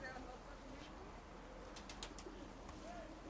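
Pigeons in an aviary coo softly at a distance, a few low calls over steady background noise, with brief chirps and faint wing flutters mixed in.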